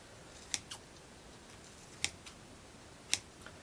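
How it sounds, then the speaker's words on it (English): Small scissors snipping fabric during a craft build, three crisp, sharp clicks spaced about a second apart over a faint background hiss. "Okay, so I'll use my smaller scissors"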